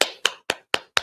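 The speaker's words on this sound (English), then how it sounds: "Clap it up." Five sharp, evenly spaced claps at a Baltimore Sabbath church service, crisp and fairly close, with clean silent gaps between each.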